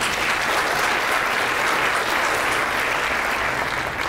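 Audience applause at a cancer center ribbon-cutting ceremony at Rutherford College, a steady, dense clapping from a crowd that holds at an even level throughout without fading.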